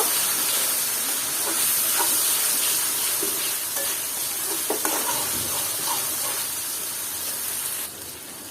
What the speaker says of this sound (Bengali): এটাকে আবার একটু নেড়ে চেড়ে দিলাম মশলাটা ভালো মতো আমি কষিয়ে নেব